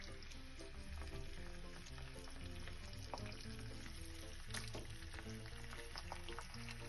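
Hing and spices sizzle and crackle steadily in hot oil as a tempering for moong dal, with a constant close frying hiss and scattered pops throughout.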